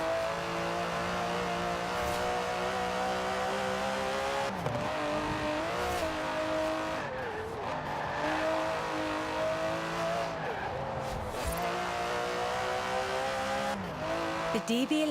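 An Aston Martin DB11 driving in Forza Horizon 4, its engine droning steadily with pitch dips at gear changes, continuous and fairly close throughout, with someone talking over it.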